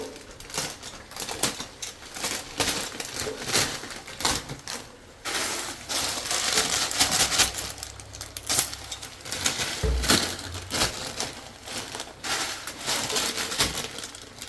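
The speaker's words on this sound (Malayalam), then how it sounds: "സേമിയ പാക്കറ്റ് പൊട്ടിച്ച് ഇതിൻ്റെ അടുത്ത് തന്നെ വെക്കാം." A vermicelli packet being torn open in a kitchen, loud crinkly plastic crackles and rips in bursts through the whole stretch, close to the microphone.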